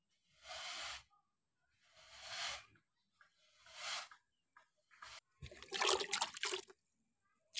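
Water poured onto garden plants comes in short, quiet splashing bursts separated by pauses, close by, with a louder burst of splashing near the end.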